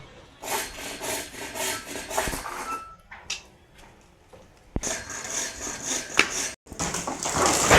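Hand sawing through a neem tree trunk, with rough, rasping wooden strokes in an uneven rhythm, close and fairly loud, broken by brief pauses and a few sharp knocks.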